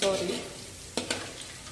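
Nylon poha and green chillies roasting in a pan, a crackling sizzle that fades slightly, broken by two sharp stirring scrapes near the end.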